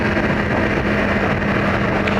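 Yamaha R1 sport motorcycle ridden at speed in too high a gear, a loud steady engine drone mixed with heavy wind rush across the microphone, continuous with no talk.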